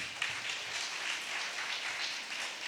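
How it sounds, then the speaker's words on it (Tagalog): A church congregation at a preaching service breaks into applause, a dense even wash of many hands clapping from a distance, steady and moderately loud throughout without voices. "Isang malakas na palakpak."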